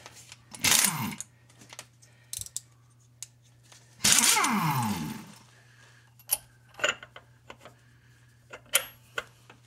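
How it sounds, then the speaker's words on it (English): An air wrench drives a Cincy Speed bushing tool while Pfadt poly bushings are installed, firing two loud rattling bursts that whine down as they stop, followed by scattered sharp metallic clicks and taps. "And then you just get the air wrench and hold on to her."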